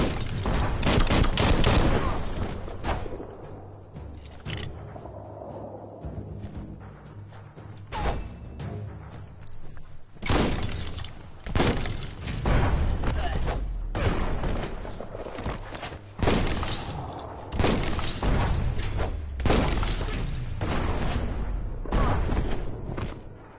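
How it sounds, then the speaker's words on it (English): Repeated loud explosions from a bomb lobber weapon in the video game Biomutant, sharp booming blasts in irregular bursts, some clustered close together, with brief quieter gaps between volleys. "That's a bomb lobber."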